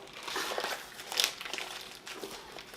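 Plastic wrapping being torn open by hand on a boxed diamond painting kit, a steady close crinkling and crackling that runs the whole way, with one sharper crunch partway through.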